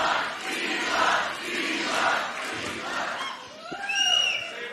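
A large crowd at an Elon Musk America PAC event in Pennsylvania cheers and roars in rolling waves, loud and sustained, with a few whoops and shouts rising near the end.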